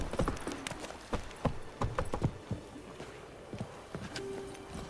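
A horse trots in the video game Witcher 3, its hooves giving a quick, close, rhythmic clip-clop that continues steadily throughout.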